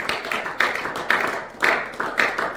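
A church congregation claps in unison, loud rhythmic rounds of applause arriving in roughly half-second beats, close and full, with no talking over it.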